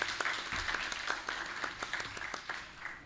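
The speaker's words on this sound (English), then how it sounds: "a huge round of applause for General V.P." A leadership summit audience gives a round of applause for General V.P. Malik. The clapping is sustained and moderately loud, with individual claps audible through the dense patter for about three seconds.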